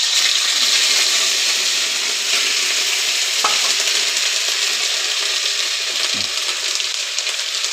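Onion paste fries and sizzles steadily in a hot pan, a dense, loud crackle running throughout with a couple of brief clinks of a spoon stirring against the pan.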